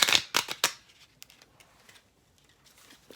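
Playing cards riffle in three quick bursts, followed by faint scattered taps and rustles.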